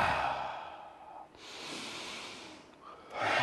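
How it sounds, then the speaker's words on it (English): Deep breaths drawn into the chest during an embodiment coaching session, a long airy exhale, a pause, then another slow breath and a final breath in, close and audible with no talk. "Now we're breathing into the chest in order to express and feel a bit more."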